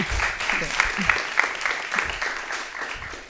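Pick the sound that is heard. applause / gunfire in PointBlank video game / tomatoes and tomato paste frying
applause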